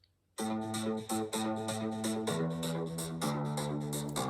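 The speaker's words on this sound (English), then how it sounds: "In fact, it's 2 bass lines running together just to give it a bit of extra body" Two deep, sustained bass lines play together in unison, stepping through a few held notes at a steady pace without any other instruments.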